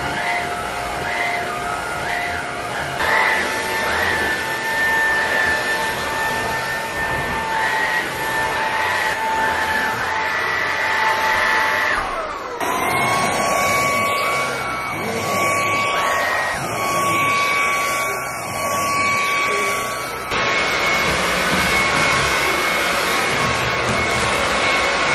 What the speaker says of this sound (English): I need to clean off our bed and go vacuum a few other spots using our new vacuum.